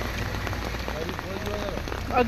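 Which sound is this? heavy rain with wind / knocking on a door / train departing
heavy rain with wind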